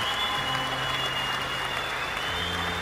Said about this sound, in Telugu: అందరూ క్లాప్స్ కొడుతూ మైకిల్ని సపోర్ట్ చేస్తున్నారు